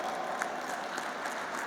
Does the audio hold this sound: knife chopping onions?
no